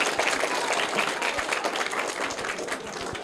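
A school audience bursts into loud, steady applause for a correct quiz answer, dense clapping throughout with no voices over it.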